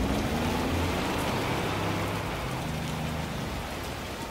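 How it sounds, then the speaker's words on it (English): Torrential autumn rain pours down in a dense, constant roar of drops, loud and close throughout, with faint low tones beneath and no voices. "Then come the torrential autumn rains."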